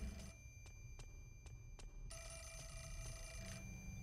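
A telephone rings in the video game Fatal Frame 4: The Mask of the Lunar Eclipse, a series of short regular bell trills followed by a longer sustained ring over a low background hum, with no talk.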